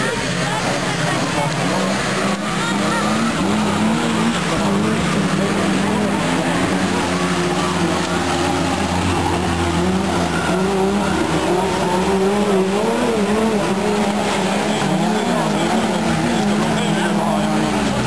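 Autocross race cars at Varstu roar continuously at a distance while tires squeal in wavering whines as they slide through the turns. An announcer talks over the racing.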